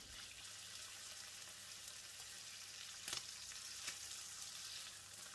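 Pork belly slices frying in a pan give off a faint, continuous crackling sizzle, with a couple of slightly sharper pops partway through.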